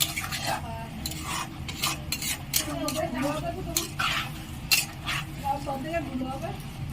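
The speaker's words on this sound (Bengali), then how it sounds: "এটা আমি ভালো করে কষে নেব" A spatula scrapes and clinks against a pan while Kashmiri aloo dum, a potato curry, is stir-fried. Irregular scrapes and metallic knocks sit over a steady low background with a faint sizzle.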